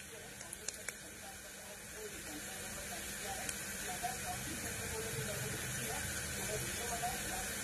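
Tomatoes go into a pan of browned onion, chilli and garlic with a few sharp clicks, then a steady hissing sizzle that builds and holds, near and fairly faint, while someone speaks quietly over it.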